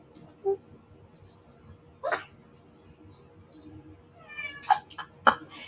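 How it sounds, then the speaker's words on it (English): A house cat gives a few short meows spaced across several seconds, one fuller meow in the middle and two quick chirps near the end, in a quiet room. "She meows for food."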